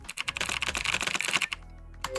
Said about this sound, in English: That's also really loud, the typing sound.